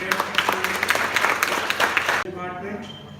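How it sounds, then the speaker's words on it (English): Audience applause fills a university workshop hall, dense clapping for about two seconds that stops abruptly, leaving quieter room sound and a voice beginning to talk. "Please give a big applause to this great"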